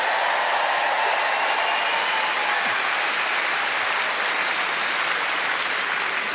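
Audience at a live comedy show in Edinburgh breaks into sustained, dense applause, a loud continuous wash of clapping from a large crowd that holds steady for several seconds.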